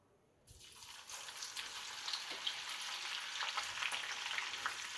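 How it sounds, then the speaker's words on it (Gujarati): Sliced okra hits hot oil and erupts into a steady, dense sizzle after a brief quiet start, with crackling frying continuing close and fairly loud to the end. "હવે તેલ સારી રીતે ગરમ થઈ ગયેલું છે, તો હવે નાખીશું આપણે ભીંડા એનામાં"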